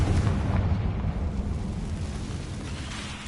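A Confringo fire spell bursts in Hogwarts Legacy, a heavy low rumbling blast that rolls on steadily for a few seconds, loud and close, with no voices.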